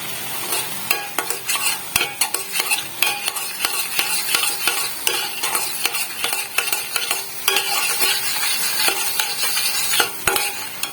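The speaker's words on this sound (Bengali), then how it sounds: "গ্রেভিটা ভালো করে কষিয়ে নেবো।" Masala gravy with turmeric, chilli powder and salt being stirred and sautéed in a pan, a continuous sizzle broken by frequent sharp scrapes and clicks of the spoon against the pan, close and steady.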